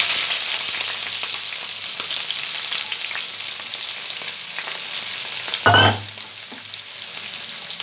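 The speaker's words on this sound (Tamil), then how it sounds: "அந்த வெங்காயத்தை நம்ம இதோடு சேர்த்துக்கலாம்." Onions sizzle steadily in a hot pan for mutton chukka, a continuous bright frying hiss with a brief louder clatter of stirring near the end, no voices.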